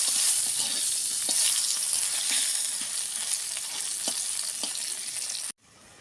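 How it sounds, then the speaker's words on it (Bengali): Pieces of mango fry in a pan with salt and turmeric, giving a loud, continuous, close-up sizzle with scattered stirring taps, before the sound cuts off abruptly near the end. "আমগুলো আমি ভালো করে ভাজে দেবো।"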